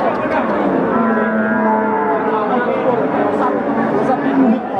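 Mother cattle with calves, Simmental cows at a livestock sale, low mooing heard under steady crowd chatter and nearby talk, continuous and fairly loud throughout.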